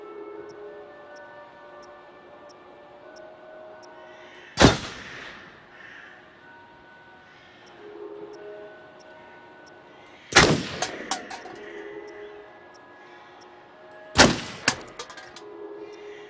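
Gunshots at a shooting range at the base of a ski lodge in the video game Until Dawn: three loud, sharp reports spaced several seconds apart, each ringing out with an echoing tail over a faint steady background.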